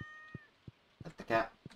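A cat meows in Stardew Valley, a few short calls heard fairly close, with game tones and a brief burst of a voice or other sound in between.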